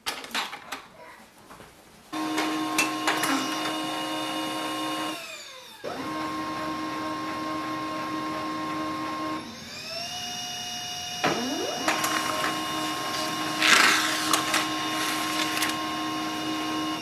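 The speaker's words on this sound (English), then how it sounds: "Now we can print the test page." A Pantum P2502W wireless laser printer prints a test page, giving a steady whirring mechanical hum with clicks and pitch shifts as paper feeds through, running alone for most of the clip.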